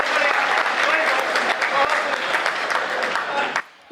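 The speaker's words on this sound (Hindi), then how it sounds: "गलत जगह ताली बजा रहे हो।" An audience at a Hindi comic poetry gathering (kavi sammelan) breaks into loud, sustained applause from many hands, with some voices mixed in, before it cuts off abruptly near the end.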